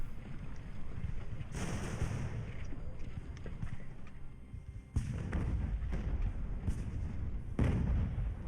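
Mortar and artillery fire in the naval strategy game Ultimate Admiral Age of Sail booms as several muffled thumps and bursts over a low rumbling battle ambience, at moderate volume.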